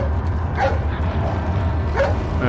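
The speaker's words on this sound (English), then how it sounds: "Hey, it's that dog!" A wolf dog in Resident Evil 4 gives two short yelping barks, spaced about a second and a half apart, over a low game rumble.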